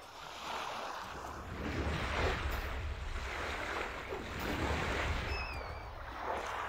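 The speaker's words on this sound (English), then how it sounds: "the water is very loud here for me" Water rushes loudly and steadily through the sewers under Balmora in the video game Morrowind, a continuous close roar of flow with gentle swells in intensity and no talking.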